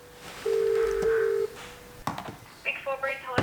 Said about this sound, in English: We picked up the phone and called them.